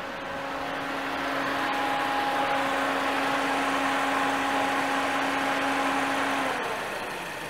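A car engine idles steadily at close range with a constant hum and a faint whine, while radiator coolant circulates through the system; the sound stays even throughout with no talk.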